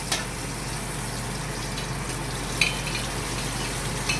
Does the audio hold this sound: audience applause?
no